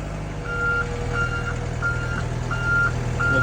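A truck with a trailer reverses outdoors in Alaska, its backup alarm sounding five evenly spaced beeps over a steady, loud diesel engine rumble, with no talking.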